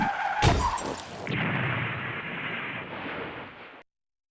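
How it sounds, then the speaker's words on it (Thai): A vehicle skids out of control: a sharp crash-like burst, then a sustained loud screech of sliding tyres that stops abruptly, with no voices. "เมื่อยานพาหนะลื่นเสียหลักและเสียการควบคุม"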